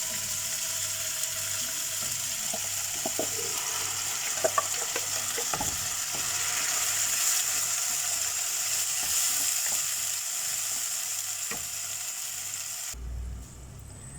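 Onion-tomato paste is added to a hot pan for mutton kofta vindaloo with egg, and a steady close sizzle and frying hiss follows with some stirring scrapes, before cutting off abruptly near the end.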